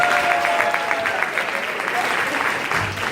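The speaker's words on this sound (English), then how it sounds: "Give them a round of applause." A stand-up comedy audience gives birthday guests a round of applause, a thick, loud burst of crowd clapping with cheers mixed in, thinning slightly toward the end.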